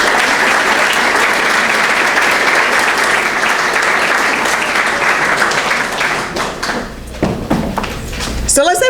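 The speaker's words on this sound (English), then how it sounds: "So let's everybody stand up and give her a hand of applause." An audience at an entertainment show gives a honoree a hand, dense sustained applause that fills most of the stretch, then thins out with some knocks and voices as it fades near the end.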